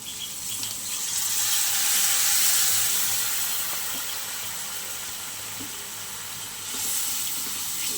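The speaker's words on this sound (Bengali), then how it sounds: "চলো এবারে জল দিয়ে দিই।" Water is added to a hot pan of fried bitter gourd, releasing a loud hissing steam burst that swells, slowly subsides, then flares again near the end, close up with no voices.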